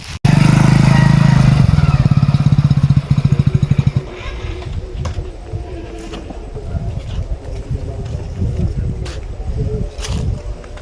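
A motorcycle engine rumbles loudly close by for about four seconds with a rapid pulsing idle, then cuts off, leaving quieter outdoor background noise with scattered clicks.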